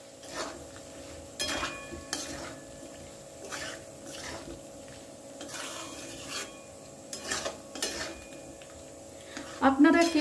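A utensil stirs and scrapes boiled potatoes mixed with poppy seed paste and dried red chilli in a metal pan, giving intermittent close rasping scrapes and soft clinks with brief pauses.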